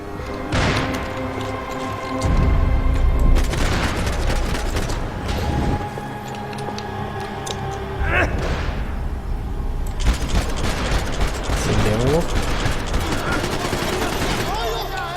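Loud gunfire in Max Payne 3, bursts of rapid shots and heavy thuds from a firefight, mixed with game effects and people talking over the action.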